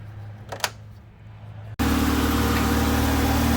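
2006-2011 Ford Fusion engine starting and running after transmission cooler line repair; a brief click and quiet rustle, then a sudden steady loud idle hum with fan-like noise continuing.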